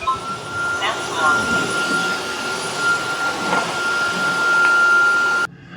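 A Tineco Artist S7 floor mop runs in max suction mode, giving a loud, steady whine with a high tonal hum that continues throughout and then cuts off abruptly near the end.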